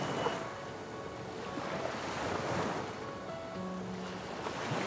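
Waves break and wash onto a white-sand beach in Barbados, a steady, soft surf roar with gentle swells and no voices.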